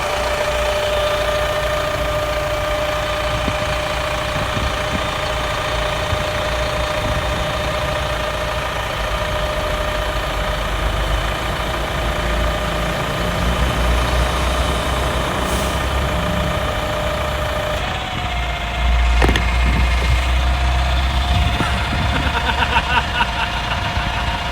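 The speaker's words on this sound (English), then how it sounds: "The up button is going to actuate and articulate the second hinge point on the hook system at the rear of the chassis." A Junk Luggers hooklift truck idling while its hook system operates, a loud continuous diesel drone with hydraulic whine and occasional clunks near the end.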